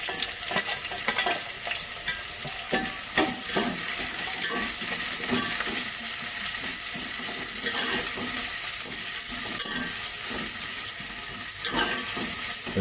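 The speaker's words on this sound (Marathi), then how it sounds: "तर मित्रांनो आता आम्ही फोडणी देत आहोत" Whole spices and onion frying in hot oil for prawn rice, a steady loud sizzle with occasional stirring scrapes throughout, no voices.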